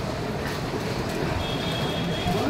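Steady rumble and hiss of a busy railway station at New Jalpaiguri, with train noise and faint wheel squeal blending into continuous ambience.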